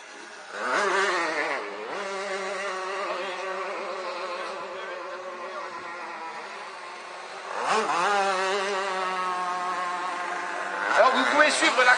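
Race cars pass on the circuit during an endurance race, including a super prototype, their engines droning steadily with rising and falling pitch and a louder swell toward the end. French commentary runs over the engine noise.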